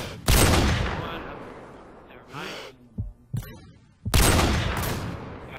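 Gunfire rings out in a zombie infection video game, loud bursts of shots at the start and end with a few single cracks between them.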